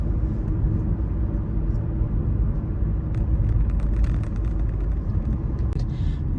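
Steady road rumble from inside a car cruising along a road in Blythewood, South Carolina, a constant loud low drone with light rattles, no talk.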